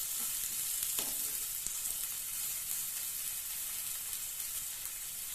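Finely ground onion sautés in a hot pan with oil, giving a steady bright sizzle and hiss with occasional stirring scrapes, close and continuous with no talking.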